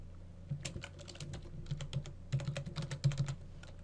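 Someone types a command on a computer keyboard, a quick run of close key clicks that pause briefly and then resume more densely, ending in firmer keystrokes, with no voices.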